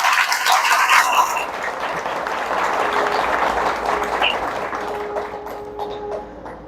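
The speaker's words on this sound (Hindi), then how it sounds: "एक बारी गुरुदेव भगवान के लिए जोरदार तालियां बजा दी।" Loud, sustained clapping from an audience at a spiritual talk honouring a guru, a dense wash of hands that tapers gradually over several seconds.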